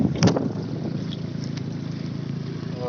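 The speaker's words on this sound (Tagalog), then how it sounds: "Malakas ang hangin po" Steady rushing wind buffeting the microphone outdoors at a beach resort in Calatagan, Batangas, with a brief clatter near the start and no talking.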